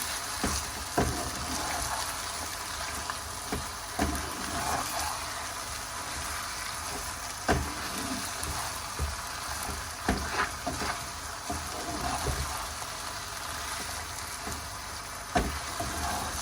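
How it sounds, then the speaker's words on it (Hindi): Masala-coated mutton pieces fry in a pan over medium-low heat, giving a steady soft sizzle with occasional louder pops and stirring scrapes throughout, no voices. "अच्छी तरह भून लेंगे"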